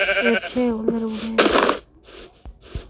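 A sheep bleats in a wavering, drawn-out cry in a zombie apocalypse video game, followed by a shorter bleat, with brief game-like clicks and thuds.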